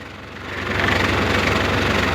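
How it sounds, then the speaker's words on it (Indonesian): A forklift's diesel engine running, a steady close rumble with a rhythmic low knock that swells slightly in loudness after the first moment and then holds level. "Kalau mesin forklift sudah menyala"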